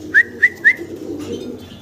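Pigeons, including a pair of Spanish birds, give three quick rising whistle-like notes close by, followed by a soft low murmur of cooing.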